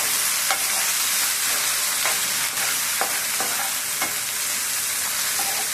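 Onions, tomatoes, curry leaves and coriander sautéing in a pan, with a steady sizzle and scattered stirring scrapes and clinks throughout, close and fairly loud.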